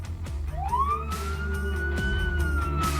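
A police car siren rises and holds a loud wailing tone over the low rumble of passing traffic, close by and steady for a few seconds.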